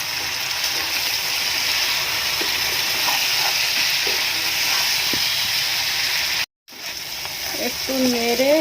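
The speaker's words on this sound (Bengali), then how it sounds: "এবার আমি জিরে, ধনে, হলদি, লবণ, লঙ্কা গুঁড়ো দিয়ে দেব। দিয়ে একটু নেড়ে" Cumin, coriander, turmeric, salt and chili powder are stirred and fried in a pan with chicken for curry. A steady, close sizzle runs throughout, broken by one brief gap, with faint clinks near the end.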